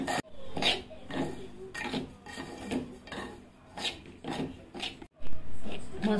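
Semolina (rava) is dry-roasted in a pan for a cucumber rava dhondas cake while a spoon scrapes through it in steady, rhythmic gritty strokes, close and fairly loud.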